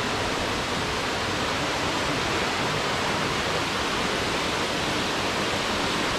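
A Thai waterfall roars in a steady, dense broadband rush of falling water, loud and constant throughout with no voices.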